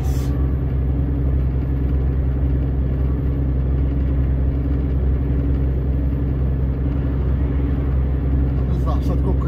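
A truck engine drones with a steady low rumble from inside the cab as the driver gives it gas on the road, loud and constant, while someone speaks over the engine.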